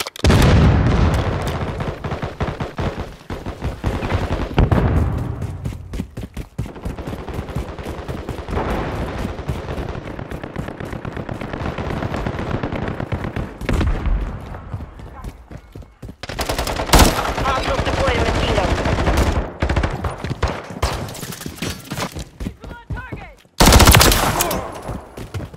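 Rival-9 submachine gun firing in a Call of Duty MW3 Team Deathmatch match on the Vista map, with long rapid automatic bursts, scattered shots and booms, and a couple of brief lulls before louder fire resumes.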